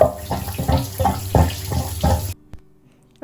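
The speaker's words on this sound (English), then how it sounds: "This is the switch for the gulper, which sucks the water out of the shower." A narrowboat shower's gulper pump runs loud and close, sucking water out of the shower tray in a series of rhythmic gulping pulses for about two seconds before it cuts off abruptly into quiet hum.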